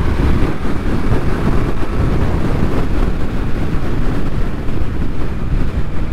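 A 2025 Indian Scout motorcycle pulls hard in fifth gear on an open road, its engine a steady, loud drone buried under heavy wind rush that stays constant throughout.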